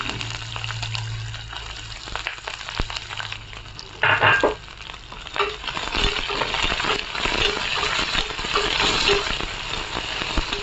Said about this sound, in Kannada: ಉಳ್ಳಾಗಡ್ಡಿ ಹಾಕ್ಕೊಳ್ಳಿ.